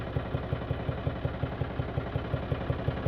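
A 2013 John Deere tractor engine runs at a steady idle, giving a continuous low rhythmic chugging with regular thumping pulses, close and even throughout.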